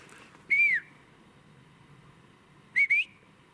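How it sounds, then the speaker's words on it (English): Two clear whistles ring out in quiet woods off to one side, a single rising-falling tone first, then a quick double whistle a couple of seconds later, alone against faint background hiss. "And I just got another whistle to my right."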